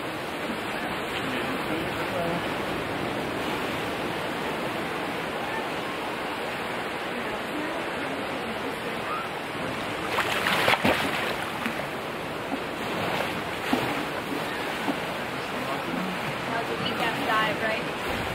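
Ocean waves and surf roll onto a beach near Charleston in a steady, broad wash, with a brief surge of breaking water swelling louder partway through.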